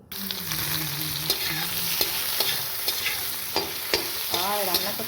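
Boiled potatoes fry in hot oil with cumin, giving a continuous crackling sizzle broken by repeated scraping clicks of a spatula stirring the pan, close and fairly loud, with no talking.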